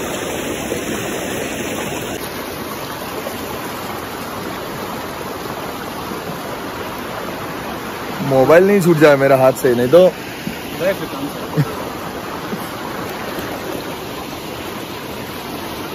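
A river rushes steadily over rocks near a temple in Vasai, a loud, constant roar throughout, with someone speaking briefly over it midway.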